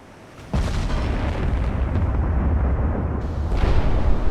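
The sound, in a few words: 18-inch naval gun firing, video game Ultimate Admiral: Dreadnoughts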